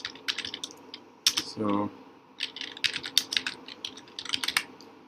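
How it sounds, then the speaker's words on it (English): Fingers tap out text on a computer keyboard in quick clusters of clicks with short pauses between them, while a voice speaks briefly partway through. "now we type in join us party."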